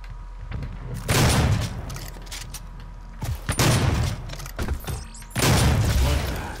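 Gunfire in DOOM open beta multiplayer on PS4, loud heavy blasts in three main bursts with mechanical clanks and thuds between them, no talking.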